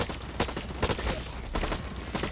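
Bursts of assault rifle fire in the shooter game Blacklight Retribution, several short volleys with sharp attacks recurring across the clip, loud and close over a steady background.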